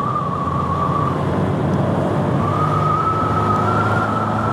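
Fire engine sirens wail steadily on the way to a structure fire, with the tone holding and shifting pitch across the clip under constant loud traffic and road rumble.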